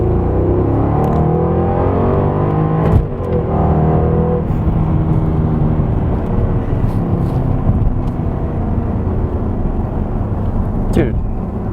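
Jaguar XKR Coupe with a 510-horsepower engine accelerating hard from a 25 mph cruise, a loud rising roar with sweeping gear-change tones and a couple of sharp clicks, close and continuous.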